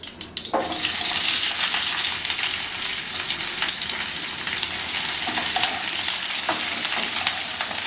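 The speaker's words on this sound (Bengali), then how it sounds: "হয়ে গেছে ভাজা, এবার পেঁয়াজটা দিয়ে দেবো।" Onions hit a hot pan for a dhaba-style spicy chicken masala gravy. After a short quiet start, a loud, dense sizzle takes over and carries on steadily to the end.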